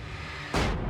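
A flashbang detonates in the video game Alan Wake, a single loud, sharp burst that cuts in suddenly over a low ambient game bed and then rings on with a broad hiss.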